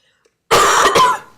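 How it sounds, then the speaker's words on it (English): A single harsh, close cough during a city council meeting, a brief loud burst with a short second push before trailing off, after near silence. "I'm clearly having a coughing attack"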